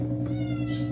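A brief, soft cat meow rises over a constant low hum in a quiet room.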